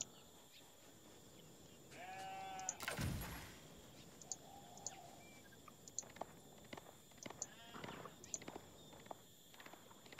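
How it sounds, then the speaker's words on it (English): Sheep bleat in the strategy game Age of Empires IV, a couple of short bleats among light game effects, footstep-like clicks and a brief whooshing hit, all faint and without talk. "there's all these sheep just here."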